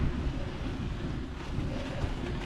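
Brutal cold wind buffets the microphone outdoors on a ride from Monument Basin toward Gooseberry, a steady low roaring rumble with no voices.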